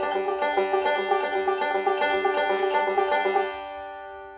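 A banjo plays a fast backwards roll, a quick stream of bright plucked notes that runs steadily for about three seconds and then rings out and fades, with no voice.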